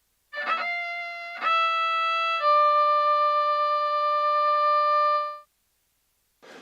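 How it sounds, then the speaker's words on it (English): An eerie, rustic violin sample from an 8Dio library plays alone. Three sustained bowed notes step in one after another, holding clean harmonics before stopping abruptly, followed by silence and a short sound at the end. "this violin starts to play, and it's a really eerie, rustic kind of violin"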